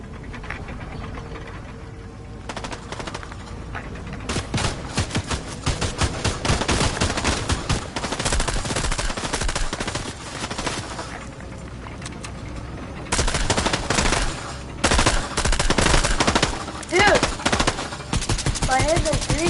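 Rapid automatic gunfire from Fortnite fills the stretch, with bursts of shots coming in clusters over steady game noise and occasional voices beneath.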